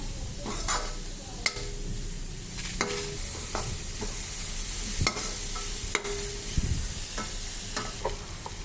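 Grated carrot being stir-fried for egg fried rice, with a steady sizzle, spatula scrapes and clinks against the pan running throughout, and no talking.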